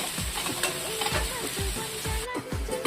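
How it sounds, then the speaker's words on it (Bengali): Cut potatoes frying in oil with black cumin tempering for alu posto, a close sizzle broken by regular spatula strokes that thump and scrape against the pan. "আলুটা আমি ভালো করে লাল লাল করে ভেজে নেব"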